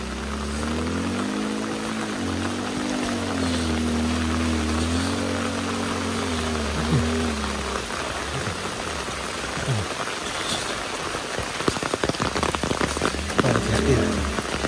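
Heavy rain pours down while a motorbike climbs a steep hill road, a dense hiss of rain over a low, wavering engine drone that fades out partway, followed by sharper spatters and knocks.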